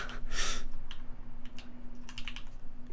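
Typing on a custom Reborn60 mechanical keyboard, a quick run of close, crisp key clacks with a louder stroke near the start and uneven bursts of keystrokes after it.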